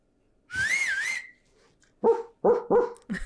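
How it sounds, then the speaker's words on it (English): A single warbling whistle rising and falling, followed a moment later by several sharp dog barks nearby, during a dog trial. "Okay, she whistles for the dog."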